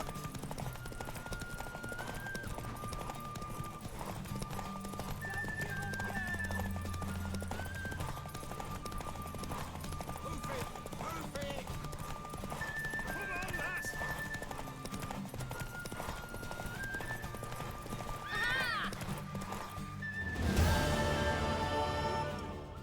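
In The Witcher 3 video game, a horse's hooves clip-clop steadily under continuous game music and ambience, with a louder burst of activity near the end.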